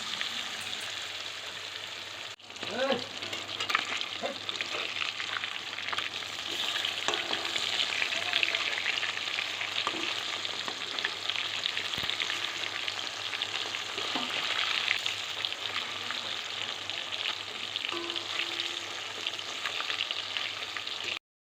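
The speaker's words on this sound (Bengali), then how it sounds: "তো চলো, মাছটা ভেজে ফেলি।" Pieces of katla fish, rubbed with turmeric and raw oil, sizzle steadily in hot oil in a pan, a continuous crackling hiss with a few clatters as the fish goes in, no talking.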